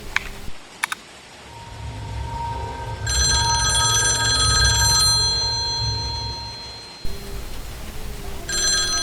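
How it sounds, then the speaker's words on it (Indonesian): An office telephone rings loudly in a quiet night-shift IT service room, a steady electronic ring with bright repeating tones, pausing briefly between bursts and starting again at the end. "Tiba-tiba ada telepon."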